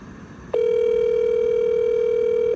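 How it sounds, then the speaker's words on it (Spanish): A telephone call to a government minister's personal phone: one steady, loud line tone starts abruptly and holds for about two seconds before cutting off, with no one talking. "Es el teléfono personal de la ministra Karen Abudinen"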